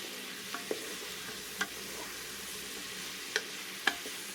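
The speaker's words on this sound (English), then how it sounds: "I'm going to go ahead and add my meat back into my pan." Browned meat returning to a hot pan with bay leaf and aromatics, a soft steady sizzle with a handful of light clicks and taps from a utensil, fairly quiet and close, no voices.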